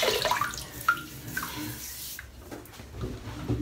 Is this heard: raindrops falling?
no